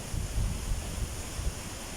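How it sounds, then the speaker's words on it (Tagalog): Strong storm wind roaring with a constant hiss and low buffeting gusts, growing stronger, loud and unbroken, with no voices. "Ugong ng hangin, talagang palakas ng palakas po."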